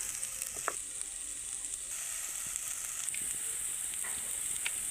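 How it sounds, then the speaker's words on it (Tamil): Bitter gourd pieces sauté in a pan, giving a soft, even sizzle with faint hiss and a few light stirring clicks, quiet and continuous. "பாவக்காயை வந்து நல்லா வணக்கி விட்டு எடுத்துக்கணுங்க"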